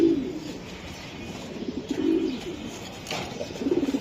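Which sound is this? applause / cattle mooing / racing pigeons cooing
racing pigeons cooing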